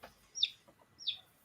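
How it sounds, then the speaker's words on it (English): Baby chickens give two faint, high peeping chirps about half a second apart. "I think I can hear baby chickens."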